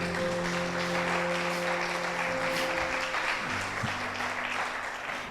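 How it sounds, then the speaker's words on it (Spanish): A church congregation breaks into strong, sustained applause, dense clapping over a backdrop of sustained keyboard tones that shift partway through. "Y quiero darle ese aplauso al Señor."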